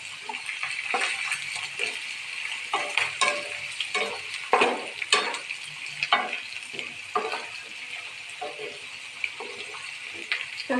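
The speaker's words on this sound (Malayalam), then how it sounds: "മിക്സ് ചെയ്ത് ഇളക്കി കൊടുക്കാം" Beef ularthiyathu with garlic, chilli and a little water stirred in a frying pan: repeated close scraping strokes of the spoon over a steady sizzle, in an irregular rhythm.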